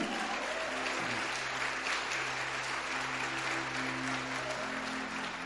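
A church congregation applauds loudly during a sermon, dense even clapping throughout, with a low sustained tone from music or voices underneath.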